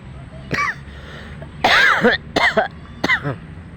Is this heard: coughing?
yes